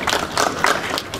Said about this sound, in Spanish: Denle fuerte aplauso.